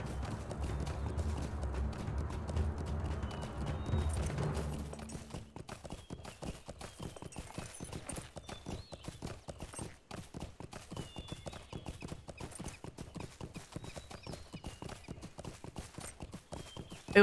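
Hooves clip-clop in a fast, steady rhythm as a horse is ridden in Lord of the Rings Online, close and clear, after a louder rumbling start.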